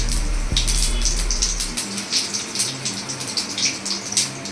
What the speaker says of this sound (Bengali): আমি দেব গোটা জিরে ফোড়ন,